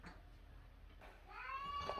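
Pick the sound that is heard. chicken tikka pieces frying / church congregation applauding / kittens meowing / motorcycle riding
kittens meowing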